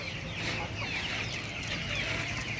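Chickens, including native breeds and a breeding rooster, clucking steadily on a small farm, a continuous cluster of close bird calls over low background rumble with no talk.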